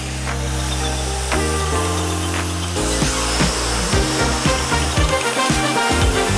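A Mafell TKA 1500 beveler clamped in place and chamfering small parts, giving a loud, steady high-pitched motor whine with shifting cutting tones and short bursts as pieces meet the cutter, with no voices over it.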